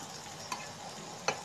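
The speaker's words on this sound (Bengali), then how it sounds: "তো দেখো আমি নেড়ে চেড়ে করে নিলাম ভালো করে।" Food fries in a pan with a soft, steady sizzle while a spoon stirs it, scraping twice against the pan in short, sharp clicks.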